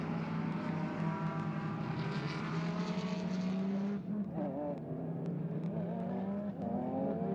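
An Absolute Racing Porsche 992 race car at Sepang during a GT World Challenge Asia race, its engine revving loud and high with rising pitch through the gears, then dropping as it shifts and pulls away.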